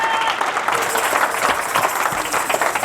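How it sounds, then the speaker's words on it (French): Worshippers at a church service in Sherbrooke break into applause, a full, lively round of clapping from a roomful of people that carries on steadily for about three seconds. "Est-ce qu'on peut applaudir pour Jésus-Christ dans la salle"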